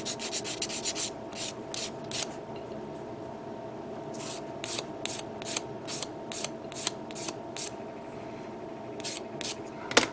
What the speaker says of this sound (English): There's some parts I have to sand down. Let's pull up number 300.